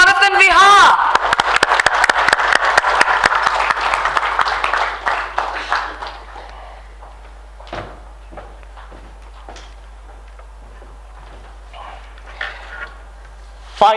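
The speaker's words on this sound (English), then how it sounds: "Ladies and gentlemen, I present to you with a big round of applause" Audience applause at a leadership awards ceremony, a loud burst of clapping that builds and then tapers off after about six seconds, leaving a quiet room with scattered faint claps and small sounds.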